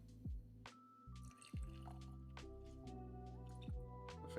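Springbank 18 single malt whiskey poured into a glass, a quiet liquid trickle with a few small drips and splashes, close and faint throughout.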